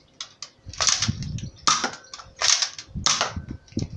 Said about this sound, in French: on va entendre un premier crack. C'est ce qui va changer, c'est ce qui va faire tourner le barillet.